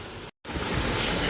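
Rice pakoras fry in hot oil with a dense, even sizzling hiss, broken by one brief dropout and then continuing steady and close.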